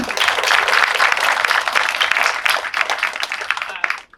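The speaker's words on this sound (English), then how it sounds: "could we just give a round of applause for all of our speakers?" Warm applause from the audience at a university anniversary event in Delhi, a full round of clapping that holds strong, then thins and fades out near the end.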